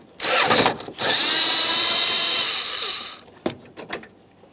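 A power tool whirs close up while removing a 10mm mounting bolt on a 2009-2014 Nissan Maxima 3.5L V6 radiator job: a short burst, a longer steady run, then a few brief clicks and rattles.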